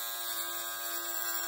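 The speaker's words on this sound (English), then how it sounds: "It's a little lint shaver." A small electric lint shaver for removing fuzz balls from a sweater runs with a steady, close, high-pitched motor buzz that holds an even level throughout.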